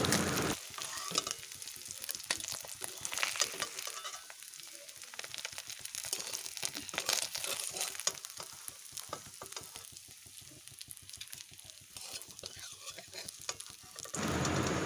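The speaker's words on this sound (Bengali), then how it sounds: "ঠিক এইভাবে লাল করে দুপিট ভেজে নিয়েছি এবার মাছগুলোকে তুলে নিচ্ছি" Fish fried in oil in a wok for a spicy fish curry sizzles steadily and loudly up close, with crackling bursts throughout and no talking.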